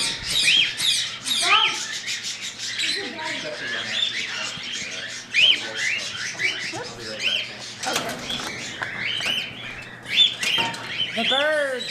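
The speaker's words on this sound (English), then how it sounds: "The birds." Small birds at a bird sanctuary squawk and chirp close by in busy, overlapping bursts of sharp calls and tweets, with quiet human talk underneath.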